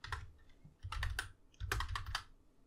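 Quick bursts of typing on a computer keyboard as a name is entered, soft close key clatter in three short runs with brief pauses.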